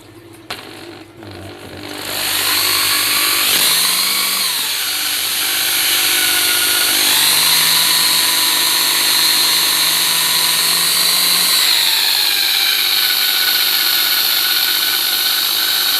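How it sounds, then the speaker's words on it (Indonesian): An electric drill runs continuously with a loud, steady whine, briefly shifting pitch as the load changes while sanding a fan motor bearing part, with no talking over it. "Yang pakai bor seperti ini."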